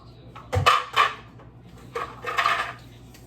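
A utensil scrapes French toast in a pan, making two short bursts of scraping and clattering, close and fairly loud, against a quiet kitchen background.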